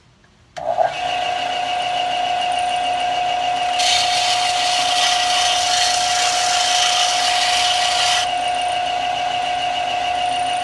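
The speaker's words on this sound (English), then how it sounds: "once all these fret spikes have been grinded down, what I like to do is get this belt sander" Belt sander grinding down the metal fret spikes on a cigar box guitar neck: the motor starts with a jolt and settles into a loud steady whine that turns harsher and brighter while the metal is pressed against the belt.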